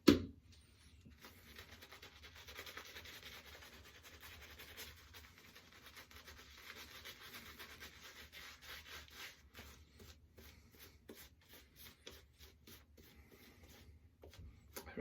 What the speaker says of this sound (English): I'm actually going to rub the tips of the brush on this soap so I can really get some more lather into the brush.